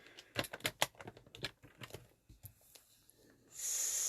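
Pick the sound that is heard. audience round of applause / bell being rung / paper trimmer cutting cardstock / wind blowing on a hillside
paper trimmer cutting cardstock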